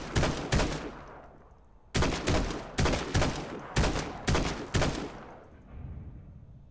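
Gunfire aimed at zombies in a video game: a loud burst of shots, then a pause, followed by a run of roughly six sharp, evenly spaced shots up close before the sound tails off into quieter rumble.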